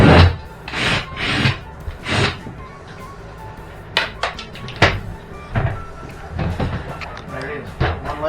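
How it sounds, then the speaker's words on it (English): Scraping, rubbing and knocking as a wooden bedroom door is taken off its hinges inside an RV being remodeled, a series of close, irregular thumps and rasps with people talking between them. "I'm going to take this door off because I'm going to put in a higher toilet"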